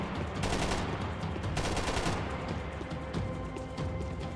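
Gunfire in Max Payne 3, loud and dense, with bursts of rapid shots and heavy blasts crowding together in a continuous barrage with no pauses.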